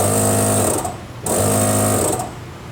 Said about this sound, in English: I should be able to take this wire and touch it to good ground and the air compressor should start